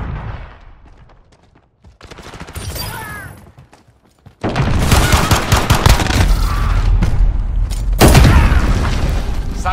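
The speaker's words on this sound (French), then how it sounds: "Grenade flash." Flash grenade blasts in Call of Duty: Modern Warfare 2v2 multiplayer: a loud, sharp burst followed by sustained, dense noise and a second hard crack later, with gunfire-like impacts mixed in.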